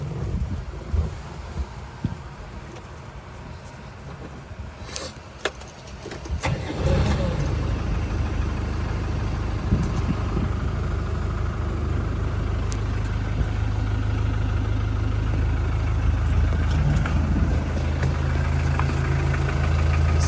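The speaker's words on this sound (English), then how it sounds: "Let's do a little fire up here while we're here." A 1992 Land Rover Defender 110 engine cranks and fires up partway through, then settles into a steady, rumbling idle that continues up close, with some wind buffeting on the microphone before the start.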